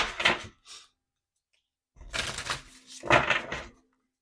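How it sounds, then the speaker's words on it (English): Two short bursts of crisp, papery tarot card shuffling, a brief riffle, a pause, then a longer rustling shuffle, close and quiet. "I'm gonna shuffle your cards up quickly"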